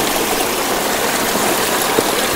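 Water runs steadily through a small water channel in the mountains, repaired after heavy rain damaged it: a dense, continuous rushing wash, close and even, with no voices.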